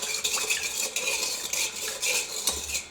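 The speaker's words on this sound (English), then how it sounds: "Give it a stir." A yeast proofing mixture stirred in a bowl, a rhythmic series of close clinking and scraping strokes of a utensil against the bowl, with no talk.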